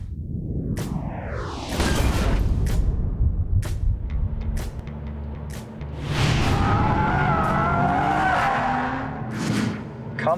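Drift race cars scream through slides on race day, with a rising engine whine, long tire squeals and whooshing passes, loud and close with a commentator's voice over the noise.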